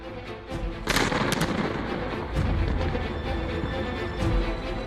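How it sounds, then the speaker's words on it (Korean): North Korea's demolition of the inter-Korean joint liaison office: a sustained, heavy rumbling blast with a cluster of sharp cracking bursts near the start, with no voices. "남북 공동 연락 사무소를 일방적으로 폭발을 시켰죠"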